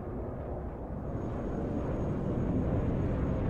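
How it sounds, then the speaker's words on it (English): Jet aircraft roar in the Broken Arrow war video game, a loud, steady rumbling wash of engine noise that builds slightly across the moment, with no talking. "Look at these jets."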